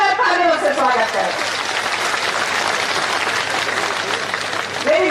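Loud, continuous applause from an audience at a Shekhawati statue unveiling and building inauguration ceremony, welcoming a guest and running dense and steady for several seconds, with a voice heard over the clapping.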